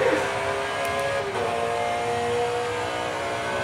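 A Porsche race car engine drones steadily in a racing simulator game, a continuous mid-level tonal hum with no distinct revving peaks, heard alone without talk.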